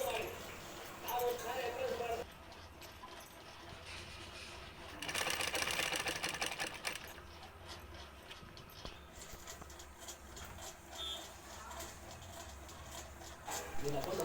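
A sewing machine stitches the kinari border on the lining of a blouse, its fast mechanical whir running in quick bursts with pauses between them, while a voice talks over it.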